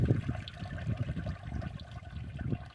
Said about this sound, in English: pull them out of the water, letting as much of that dirty water drain out as possible.